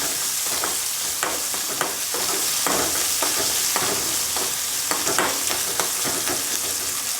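A ladle stirs green chilli pickle frying in hot oil, with a steady sizzle and repeated scraping knocks of the spoon against the pan, close and continuous with no talk.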